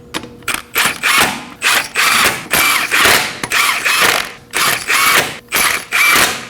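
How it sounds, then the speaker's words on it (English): Hand ratchet snugging the front wheel lug nuts on a 2017-2024 Nissan Armada, heard as repeated bursts of loud, close clicking strokes with short pauses between them and no talk. "now go ahead and snug them up in a star-shaped pattern"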